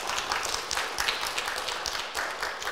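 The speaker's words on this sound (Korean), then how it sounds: "이럴 때 박수 한번 쳐야 되는데" Clapping from a congregation at a church youth gathering in Suwon, a fairly loud, continuous patter of many hands with irregular sharper claps standing out.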